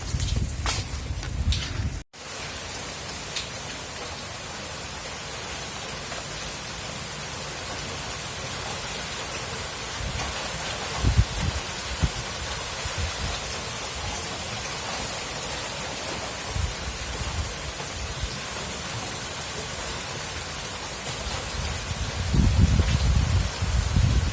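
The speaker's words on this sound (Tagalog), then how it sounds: "Sobrang lakas kasi yung ulan." Heavy rain pours down during a typhoon, a loud, unbroken roaring hiss that holds steady for the whole stretch, swelling slightly near the end, with no one talking.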